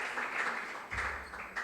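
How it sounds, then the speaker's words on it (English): An audience at a school quiz contest claps briefly, a soft scattered patter of hands heard from a distance that swells slightly partway through. "we clap for them"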